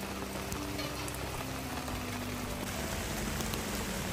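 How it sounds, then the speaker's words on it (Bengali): Heavy rain falling outside, heard indoors through an open kitchen door as a steady, even hiss of downpour that stays constant throughout. "বৃষ্টির শব্দ যাতে ঘরের ভিতরে আসে"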